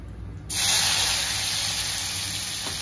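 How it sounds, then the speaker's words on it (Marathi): Chopped tomato drops into hot oil tempered with cumin and a pinch of asafoetida, bursting into a loud, steady sizzle after half a second of quiet that continues unbroken to the end. "चिरलेला टोमॅटो टाकतोय।"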